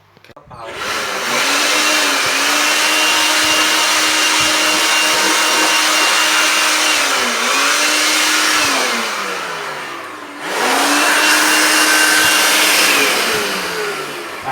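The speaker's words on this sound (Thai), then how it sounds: "ฉีดโฟมให้มัน หนาๆไปเลยเยอะๆไปเลยครับ" A motorized foam sprayer steadily blasts thick cleaning foam onto an air conditioner and its blower fan: a loud, close, continuous whirring hum that dips briefly partway through, then resumes.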